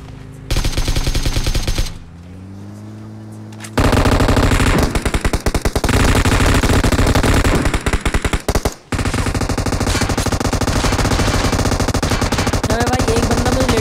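Automatic gunfire from a battle royale video game rattles in long, dense bursts with short pauses between them, loud and close.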